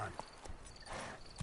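Horse hooves of the mount Roach clip-clopping in The Witcher game, a few soft uneven hoof thuds over a short moment with a voice murmuring under them.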